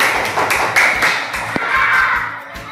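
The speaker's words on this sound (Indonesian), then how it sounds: "Tepuk tangan buat kita semua." A fifth-grade class claps in a classroom, giving a few loose, uneven claps and taps that sound close and moderately loud against a faint room murmur.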